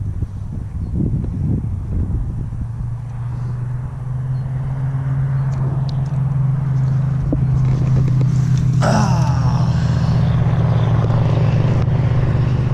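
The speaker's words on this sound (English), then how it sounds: "Loud truck." A loud truck passes near a bass-fishing spot, a low engine rumble swelling and holding steady over several seconds with wind noise on the microphone and no talking.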